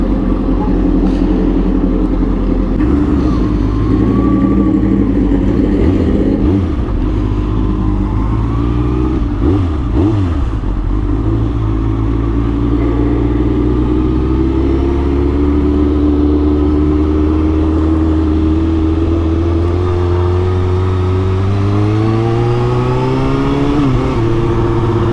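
A Suzuki GSX-R 1000 sportbike on a late evening ride is heard up close, its engine droning steadily with repeated throttle rises and falls and gear shifts, and the pitch climbing toward the end.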